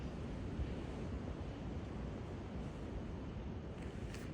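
Wind gusts across an open mountain trail on the way up Mount Albert, a steady, loud, broadband roar buffeting the microphone throughout, with no voices.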